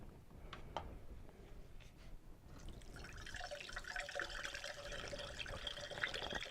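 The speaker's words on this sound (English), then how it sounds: "just pour it slowly into your strainer" Homemade ginger beer poured slowly through a strainer, a few faint drips at first, then a steady soft trickle of liquid splashing into a container, quiet and close.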